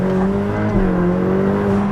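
A Ferrari F8's turbocharged engine pulls hard in second gear, a loud, continuous layered drone that holds steady and climbs slightly over two seconds, heard from close by with no talking.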